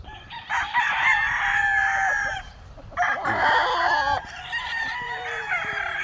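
A claret gamefowl rooster with white legs and a straight comb crows loudly and close at a game farm, in two long drawn-out calls followed by clucking.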